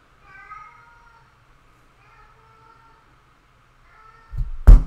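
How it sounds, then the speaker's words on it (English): A pet cat indoors gives three drawn-out meows in a row, faint and fairly distant, followed by a sudden loud thump or bump at the end. "You hear my cat?"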